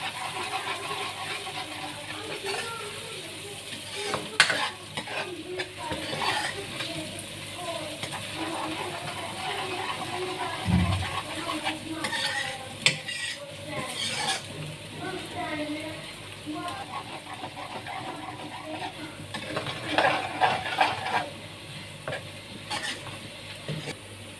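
Garlic sizzling as it fries and is stirred in a pan while making kadhi pakora, with steady frying crackle, scraping stirs and a few louder clatters; a voice talks over it at times.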